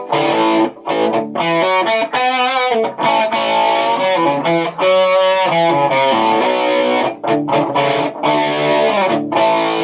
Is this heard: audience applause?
no